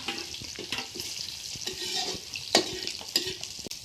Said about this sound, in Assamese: এইফালে চব খুৰীয়ে ডিম বনাই আছে